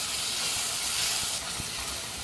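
A constant loud sizzling hiss of onions and tomato sautéing in ghee in a hot pan over low heat, with faint occasional taps of stirring underneath.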